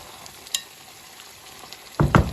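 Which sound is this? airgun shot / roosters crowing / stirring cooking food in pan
stirring cooking food in pan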